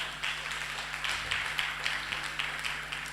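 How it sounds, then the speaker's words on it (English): An audience at a trade workshop claps for Ghana, a steady patter of hand claps at moderate distance, fairly soft and continuous for a few seconds. "Come on, we can clap for Ghana."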